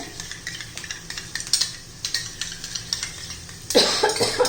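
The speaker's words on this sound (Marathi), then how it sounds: "दोन चमचे दही घेतलेलं आहे मी छान असं फेटून घेऊया" Spoon whisking two spoonfuls of yogurt in a bowl for a spicy green chili dish, a run of quick, close scraping clinks, ending in a louder clatter.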